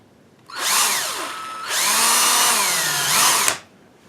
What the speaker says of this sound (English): First of all, you drill a hole